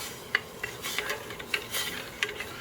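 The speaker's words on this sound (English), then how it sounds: "We're going to stir that up real good" Brown sugar being stirred into water for a Jack Daniels BBQ glaze, with a spoon scraping and clinking against a pot in a few soft, close strokes over a quiet hiss.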